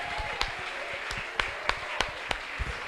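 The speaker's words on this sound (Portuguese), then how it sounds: "uma salva de palmas esse casal abençoado de Deus" A small church congregation gives a round of applause for a couple, with sparse, uneven claps sounding over a low background hum.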